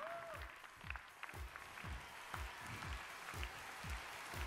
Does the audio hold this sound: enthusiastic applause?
yes